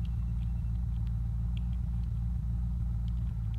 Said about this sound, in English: We're gonna drive into here, and then I'm just gonna keep driving through here